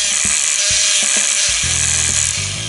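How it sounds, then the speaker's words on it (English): A high-pitched whirring toy dental drill buzzes steadily, close and bright, with faint knocks and squeaks underneath. "You're drilling out the bad stuff."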